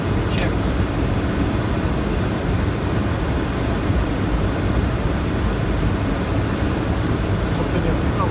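An aircraft on approach to land at Tivat in strong, shifting wind, a steady broadband roar of engine and wind noise filling the whole stretch without letup.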